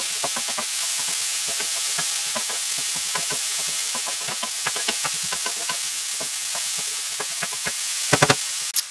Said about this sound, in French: On ajoute ensuite les poivrons. Et on fait revenir le tout ensemble.